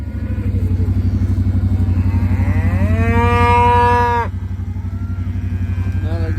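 Cattle in a big group on a farm in Mouso, with a loud, drawn-out moo rising over a constant nearby rumbling engine, then the engine continuing alone; close and prominent.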